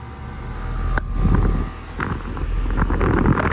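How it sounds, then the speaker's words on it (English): A heat pump outdoor unit runs in cool mode outside a Mexican restaurant, giving a steady broadband whoosh of fan airflow with a low hum. The sound is continuous and fairly loud, with wind buffeting the microphone and no speech. "That's a heat pump. It's running in cool mode."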